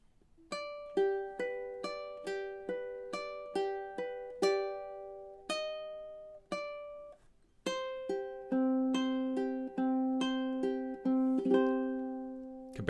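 A ukulele plays the gentle fingerpicked minor melody of Spanish Romance, single notes ringing out in an unhurried rhythm, quiet and close, with a brief pause midway.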